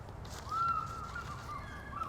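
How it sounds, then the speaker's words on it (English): Outdoor birds call loudly in a single drawn-out, crow-like caw that rises and holds over a steady background hiss. "I love the birds are going nuts"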